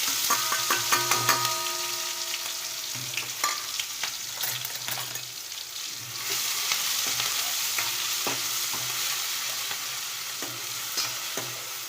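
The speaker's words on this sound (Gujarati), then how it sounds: "આ ટમેટાં, મરચાં અને શેકેલું જીરું વાટ્યું છે એના વઘારી દેવાનું" Tomatoes, chillies and a roasted cumin paste hit hot tempering oil for a corn capsicum masala, giving a steady, loud sizzle with light clinks of stirring throughout, no voices.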